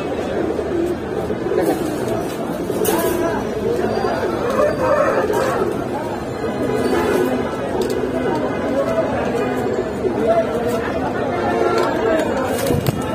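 Pigeons cooing at a busy pigeon market stall in Kaptan Bazar, soft repeated coos under constant crowd chatter and nearby talk throughout.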